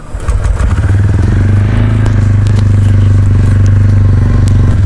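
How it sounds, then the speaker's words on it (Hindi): A TVS Ronin 225 Special Edition motorcycle fires up and settles into a loud, steady, deep exhaust rumble that stays close and continuous with no talking. "ये आप इसका एग्जॉस्ट मोड सुन सकते हैं। काफ़ी अच्छा एग्जॉस्ट मोड है इसका।"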